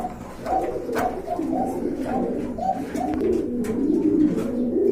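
Large Indian Mumbai pigeons coo in a repeated, soft, rolling rhythm close by, several birds overlapping against a low background hum.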